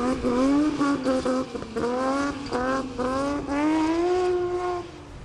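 A JRG Focus M3 rally car at speed on a special stage, its engine loud and close, pitch rising and falling through repeated gear changes and revs across the run.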